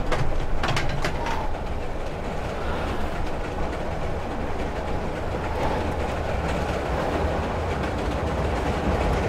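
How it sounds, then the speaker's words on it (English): A train rumbles through a house in the horror game Layers of Fear: Inheritance, a loud, continuous roar with clattering wheels that holds steady for several seconds. "Where'd the train come from?"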